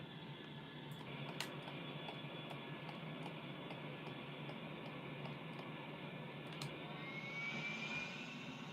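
A jet aircraft engine, likened to an A-10 Warthog, roars steadily in a flight simulator game, a broad faint whooshing drone with small clicks and a rising whine near the end.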